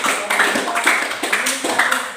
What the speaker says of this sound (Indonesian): Beri tepuk tangan yang meriah buat